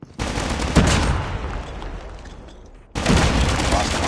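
Gunfire in the shooter game Call of Duty Mobile during a Domination match on the Highrise map, loud dense bursts of automatic fire that fade off, then resume abruptly near the end.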